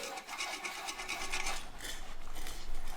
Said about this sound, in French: Frotte plus fort, vain Dieu!